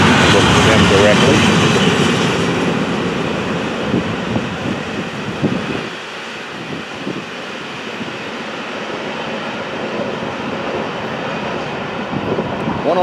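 A heavy all-intermodal FEC freight train, number 202, rumbles steadily past close by in the morning, a loud continuous roar and rattle that eases slightly midway, with someone talking over it.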